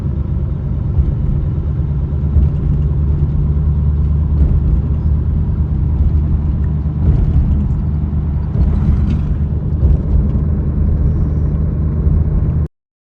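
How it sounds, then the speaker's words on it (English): A 1940 Mercury Eight cruises along in third gear, its engine giving a loud, steady low rumble from inside the car that holds an even drone throughout before cutting off abruptly at the end. "cruising at 25 miles an hour in second gear, drop it into third, she just putzes right along"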